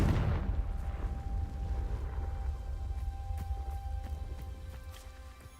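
Casting the Confringo fire spell on dry vines in Hogwarts Legacy sets off a sharp fiery burst, then sputtering crackles and pops that gradually fade.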